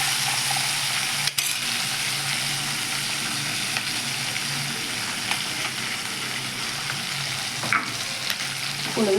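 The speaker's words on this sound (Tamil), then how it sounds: "நல்லா எண்ணெயில் கொஞ்சம் வதக்கி வச்சுருக்கோம்" Tomatoes sauté in hot oil with a steady, close sizzle and frying hiss running throughout, broken by a few scraping stirs and light utensil clicks, with no voices present.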